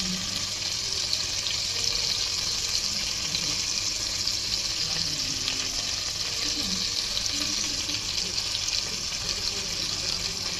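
Marinated BBQ chicken frying over low heat in a pan, giving a steady soft sizzle and crackle throughout, with faint clinks of cooking in the background and no talking.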